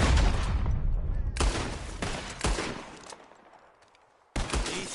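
Gunshots fired at bottles in Red Dead Redemption 2, loud sharp cracks in a quick volley with echoing decay, a pause, then another loud shot near the end.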